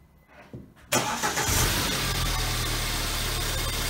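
A BMW 1 Series E81/E87 engine cranks briefly and catches, then settles into a steady, loud, close idle with a low even rumble.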